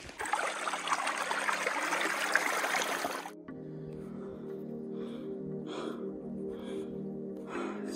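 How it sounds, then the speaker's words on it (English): Water flows through a wadi in hot Omani terrain, a bright rushing trickle for the first few seconds before cutting to a quieter stretch with faint breathy sounds over a soft background. "You can hear the sound of the water or of the wadi flowing"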